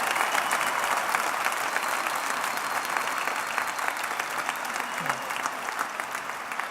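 A large crowd applauds orchestra soloists at a symphony orchestra's 85th-anniversary gala night, a loud continuous roar of clapping that holds steady throughout and fades only slightly toward the end.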